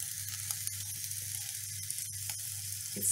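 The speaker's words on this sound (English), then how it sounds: "It's starting to sizzle, which is what we want to hear." Chopped ingredients for a quick pasta sizzle in a frying pan, a steady crackling hiss with scattered pops that holds throughout and swells slightly at the end.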